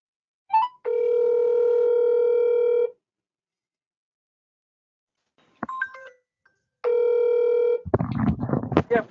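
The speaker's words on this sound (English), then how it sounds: "I'm going to call Peter real quick" Telephone call being placed: a long steady ringback tone, a pause with brief dialing clicks and beeps, then a second ring before a voice answers and starts talking.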